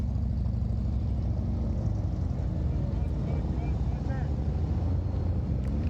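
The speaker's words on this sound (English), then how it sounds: "listen to the steadiness of the throttle of the SS Goldwing" Honda Goldwing motorcycle engine held at steady throttle, a continuous low rumble with wind buffeting the microphone, steady and fairly loud throughout.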